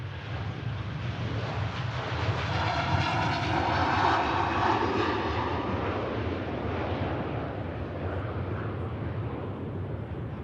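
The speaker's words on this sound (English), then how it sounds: "Here we go, the Hainan A330 about to take off on runway 23 right." A Hainan Airlines Airbus A330 takes off from runway 23 right at Manchester Airport, its jet engines giving a loud, steady roar that swells slightly and then holds, with no voices heard.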